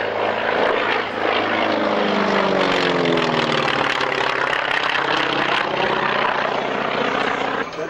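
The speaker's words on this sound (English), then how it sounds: "listen to the distinctive note of this radial engine as Martin flies T-28 past us" A North American T-28 Trojan with a radial engine flies past at an airshow at Kemble Airfield, its loud, throbbing engine note filling the air and shifting in pitch as it passes close by.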